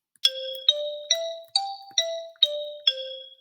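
A virtual xylophone plays seven bright struck notes stepping up and back down in an even, moderate rhythm, clear and alone.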